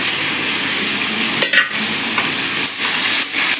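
Onions and meat marinated with tomato, raw turmeric, salt, oil and cumin powder fry together in a pan with a loud continuous sizzle, broken by a few short dips as the mixture is stirred.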